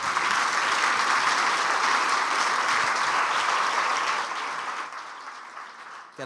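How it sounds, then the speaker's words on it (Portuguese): A church congregation applauds during a Sunday celebration service, a dense, sustained wash of clapping that holds steady for several seconds, then thins and fades toward the end. "Bem, vamos aplaudir Jesus."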